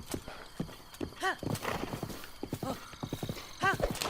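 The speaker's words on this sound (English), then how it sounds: "Bloody horse." A horse in The Legend of Zelda: Breath of the Wild clip-clops at a steady gallop, and loud, shrill whinnies ring out twice over the drumming hooves.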